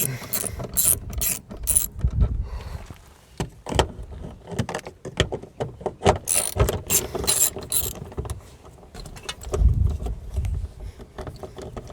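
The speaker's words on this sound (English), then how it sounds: "I got my wrench and socket here." A ratchet wrench and socket work loose a power window master switch on a Chevy Silverado, giving close, irregular bursts of ratcheting clicks mixed with metallic handling clatter.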